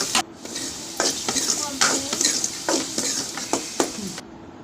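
Chili, onion and tomato frying in a pan with salt, a continuous close sizzle broken by repeated stirring scrapes and utensil knocks against the pan, no speech.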